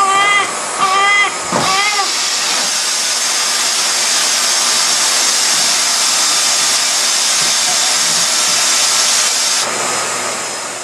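A household vacuum cleaner runs with a steady, loud broadband roar for most of the stretch, cutting in right after a newborn baby's brief wailing cries at the start and then dying away near the end.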